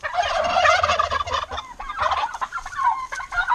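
Several turkeys gobble close by in a farmyard, a burst of rapid, warbling calls overlapping one another, loud at first and then scattered.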